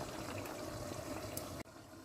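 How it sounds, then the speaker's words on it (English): Water pours and trickles steadily out of a pot of boiled yam for a couple of seconds as it is drained, then abruptly cuts off. "So we are going to sift the water out."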